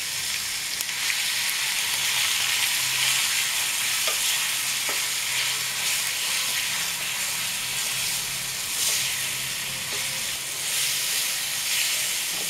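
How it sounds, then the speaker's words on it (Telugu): Dried prawn and sorrel-leaf chutney sizzles and fries as it is stirred into hot tempering in a pan, a steady close hiss with scattered scraping clicks of the spoon throughout, no voices. "తాలింపు పెరిగిపోయింది కదా,"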